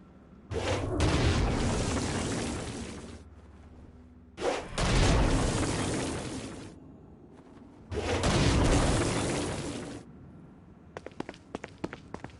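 Three heavy explosion blasts in the Saints Row video game, each a loud booming burst lasting a couple of seconds with pauses between, followed by a scatter of sharp, quick gunfire-like cracks at the end.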